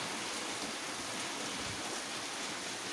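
Heavy summer rain shower pouring down on a rose garden, a dense continuous hiss of falling water, steady and enveloping with no voices.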